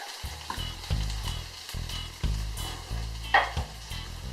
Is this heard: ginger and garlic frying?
yes